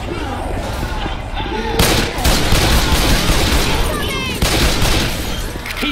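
Heavy gunfire from a zombie firefight in Left 4 Dead 2's hotel level keeps up a dense, loud barrage with booming bursts, while players call out over the shooting.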